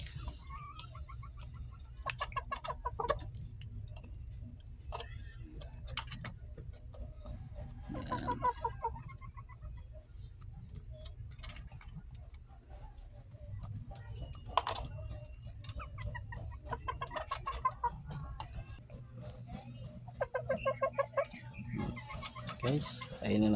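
Fighting cocks cluck and squawk in scattered bursts while being fed, over steady background noise, with occasional pecking and clattering sounds nearby.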